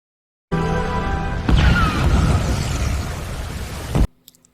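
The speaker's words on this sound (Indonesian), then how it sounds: "Akhirnya, bom pun meledak." A loud, sudden blast that opens into a long, rumbling roar of debris and crackle, lasting several seconds before cutting off abruptly.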